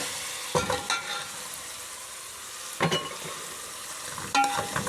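Vegetables fry in a pan over a desi home cooking fire, a constant sizzle cut by three brief bursts of stirring and scraping, with no one speaking.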